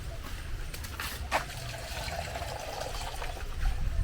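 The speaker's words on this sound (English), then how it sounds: "So at this point we'll add some little water." Water pours into a cooking pot with a steady, soft splashing trickle that lasts a few seconds.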